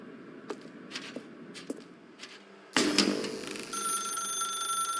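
A telephone rings in The Stanley Parable game, a sharp bright bell tone starting abruptly and continuing steadily, preceded by a few soft footsteps in a quiet room.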